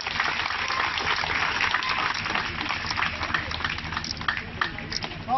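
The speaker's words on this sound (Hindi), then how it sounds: "कृपया जोरदार तालियां बजाएं।" Applause from an audience at an honouring ceremony during a district event, a dense steady patter of many hands clapping continuously and fairly close, with shouts and voices mixed in.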